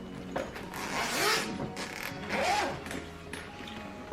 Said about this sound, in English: So many zippers.